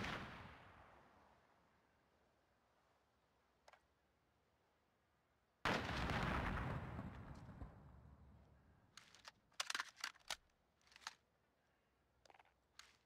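A grenade goes off in a tactical shooter game: a sharp, loud blast that decays slowly, a smaller thump earlier, then scattered clicks and clacks near the end, with no voices.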